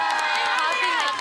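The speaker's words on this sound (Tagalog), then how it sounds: "Rinig natin yung mga sigaw ng magulang nila sa likod" Parents shout and cheer from the audience behind the stage at a talent show competition, a dense, loud, continuous crowd roar of voices.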